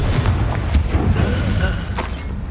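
Confringo fire spell explosion in the video game Hogwarts Legacy: a dense, roaring boom with sharp crackling bursts over a sustained rumble, loud and close throughout.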